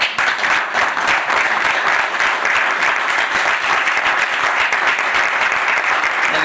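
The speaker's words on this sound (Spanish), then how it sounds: "Si lo va a aplaudir, aplaudirlo fuerte" A church congregation claps loudly and steadily, a dense sustained roll of applause from many hands filling the room without pause.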